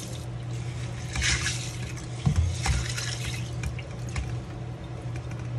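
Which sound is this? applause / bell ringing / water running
water running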